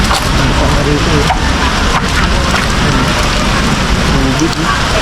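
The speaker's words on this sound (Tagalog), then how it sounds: "Sobrang hina pa lang ng ulan" Steady rain patters densely on surfaces nearby, a continuous hiss with occasional heavier drops throughout.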